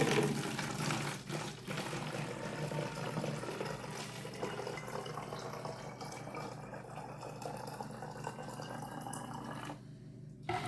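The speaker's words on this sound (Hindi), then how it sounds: "तो इसमें मैं पानी भरता हूँ इधर से।" Water is poured into a plastic bottle through a hole in its top, a steady continuous splashing pour heard up close for the whole stretch.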